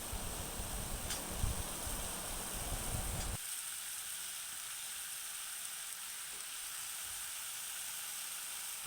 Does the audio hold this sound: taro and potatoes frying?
yes